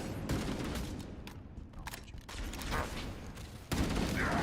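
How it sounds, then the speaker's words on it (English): Assault rifle fire in the Halo game comes as rapid bursts of automatic shots in uneven clusters, loud and close amid busy combat noise and a sudden heavier blast near the end. "Assault rifle."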